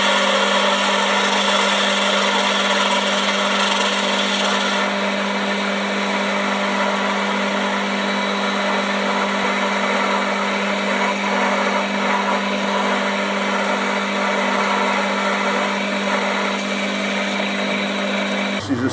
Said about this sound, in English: So we'll start off with this drill.